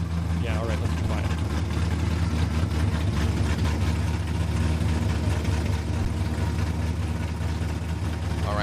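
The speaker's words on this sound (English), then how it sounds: "All right, so the car obviously way too loud." A Formula Drift pro car at the Salt Lake City round idles with a loud, steady low engine rumble throughout, with people talking over it.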